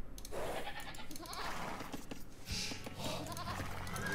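Goats bleat in the real-time strategy game Age of Empires II, a few short nasal calls rising over a busy game background of clatter and ambience.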